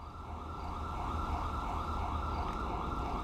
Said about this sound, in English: we're going to go somewhere else to get away from that bloody siren